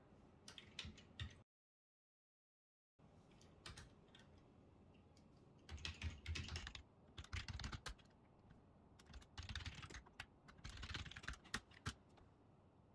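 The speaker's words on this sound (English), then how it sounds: "I'm using keyboard here." Typing on a keyboard while signing in on a Samsung Tizen TV, with bursts of clicky keystrokes in uneven clusters and short pauses between them, close and moderately quiet, with no talking.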